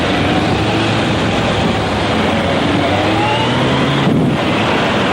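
Car overtaking a motorcycle in Paris traffic, heard from the moving bike: a loud, constant roar of engine and wind rush, with a passing vehicle's tone sliding down in pitch and no voices.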